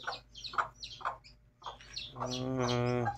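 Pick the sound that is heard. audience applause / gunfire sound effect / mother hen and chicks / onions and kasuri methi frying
mother hen and chicks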